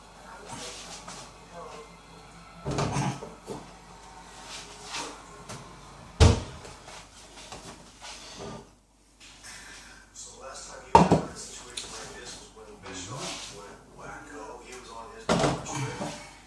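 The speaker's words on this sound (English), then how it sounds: "Get the mash out of the oven." A home brew mash pot is taken out of a kitchen oven: several separate clunks of the oven door and metal pot knocking, spaced across the stretch, with quiet hiss and room tone between them.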